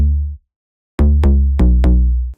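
A Serum synth preset named Trampoline from the Big Z's Sounds of 2020 pack: a short tone, a pause, then four loud bright bouncy stabs in quick rhythm, sustained and sharply attacked, with no talking.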